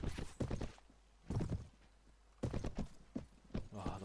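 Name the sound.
horse hooves clip-clopping in a video game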